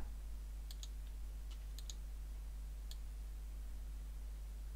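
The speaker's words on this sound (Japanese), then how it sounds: "トラジェクトリーをクリックして" A computer mouse clicks on a Trajectory button in geometry software, giving a few faint, sharp clicks, some in quick pairs, over a steady low hum.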